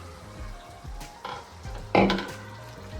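Chicken curry with masala being stirred in a pan over medium flame, a spoon scraping and tapping in a few irregular strokes against a soft frying sizzle, close by with no talking.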